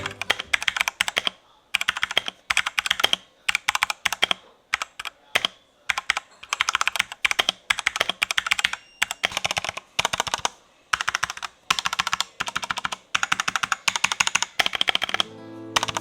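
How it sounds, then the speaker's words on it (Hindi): Close, crisp clacking of a Redragon K617 Fizz mechanical keyboard being typed on in quick bursts with short pauses between, no voices. "So here is the sound test of this keyboard."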